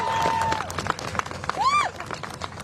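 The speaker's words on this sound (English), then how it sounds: "if we can have one last round of applause for Tasha Van Auken and Ali Najmi" Round of applause from a room of attendees at a mayoral press event, a short burst of clapping with a tonal whine and murmur of voices mixed in.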